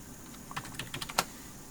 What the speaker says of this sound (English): Type your login once more.